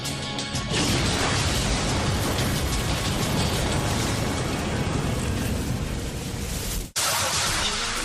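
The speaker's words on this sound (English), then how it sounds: "A bomb explodes outside the Murrah building in Oklahoma City." A homemade bomb blasting outside the steel-reinforced concrete Murrah building in Oklahoma City, a sustained loud roaring rumble of explosion and crashing debris that cuts off abruptly near the end.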